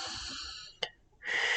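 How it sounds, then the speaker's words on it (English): A person takes deep breaths, close to the microphone, with a long wheezy exhale, a short catch, and then a strong inhale. "take some deep breaths"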